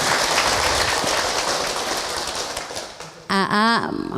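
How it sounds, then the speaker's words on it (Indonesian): An audience at an Islamic women's study gathering in Serang gives a dense round of applause that slowly fades, followed by a brief voiced sound at the end. "tepuk tangan buat orang Serang"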